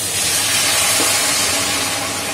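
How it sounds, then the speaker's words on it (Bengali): Hot water poured into a pan of spiced small new potatoes for a dum gravy, giving a loud, steady steamy hiss and sizzle that fills the whole moment without pause. "দিয়ে দিচ্ছি গরম জল"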